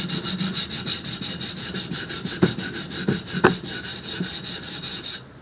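A steel chisel is swept at an angle back and forth across a waterstone, giving a steady wet rasping scrape with a few sharper strokes near the end, close and alone.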